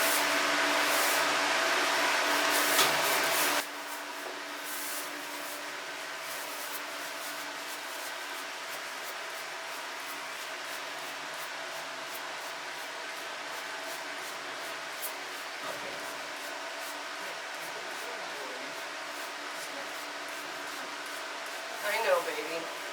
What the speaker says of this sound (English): we need to spray really well, don't we? You need to spray him.